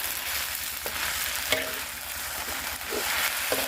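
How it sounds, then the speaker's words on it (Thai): Vegetables for vegetable khao soi fry in a pan with a loud, continuous hiss and crackle, broken by occasional light clinks of a utensil, and no one talking. "ผักเริ่มสุกแล้ว"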